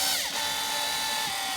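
A power drill whirs loudly and steadily while scrubbing silicone off LED circuit boards from a Galaxy Hydro reef light, its motor pitch dipping briefly under load before holding a constant whine.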